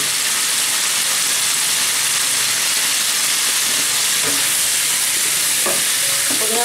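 Bengali-style Bhagon fish curry cooking in a pan with chili, ginger and a splash of water, giving a loud, steady frying hiss and sizzle throughout, with a few light stirring knocks near the end.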